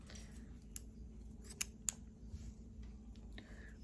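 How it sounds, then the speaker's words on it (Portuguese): Scissors snip crochet yarn in a few quick, sharp cuts, close and distinct against a quiet room. "Aí, aqui pode alongar o fio e cortar"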